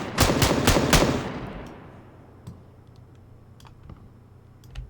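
Quick burst of automatic gunfire during a PUBG replay: about five loud, close shots in the first second, fading into a quiet tail with a few faint clicks afterward.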